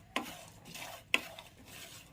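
Spices fry in a pan for a Telangana-style stuffed brinjal masala, with a soft sizzle and two sharp scrapes of a spoon against the pan about a second apart.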